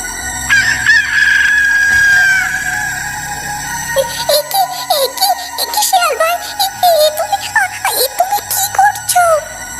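A chicken squawks and clucks in agitated bursts as a fox seizes it by the neck. The first part is a sustained crow-like cry. Later come a string of short, choppy squawks, loud and close.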